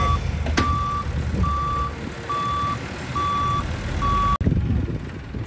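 A school bus sounds steady reversing beeps, evenly spaced and loud, over a low diesel engine rumble while it pulls another bus out, with a sharp knock near the end.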